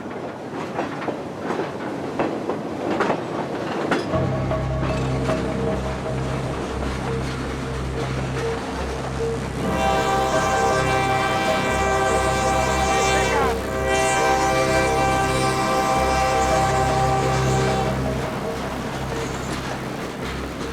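A freight train carrying migrants through Mexico rumbles past with steady clattering wheels and a long, loud multi-tone horn blast sounding for several seconds, continuous heavy rail noise throughout.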